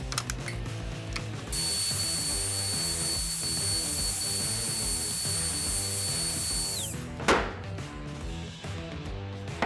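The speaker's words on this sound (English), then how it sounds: "So I'm going to route a little groove" Router cutting a groove into a wooden mantle, a loud steady high-pitched motor whine that runs for several seconds, then spins down, with background music underneath.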